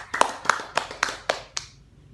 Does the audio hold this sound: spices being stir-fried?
no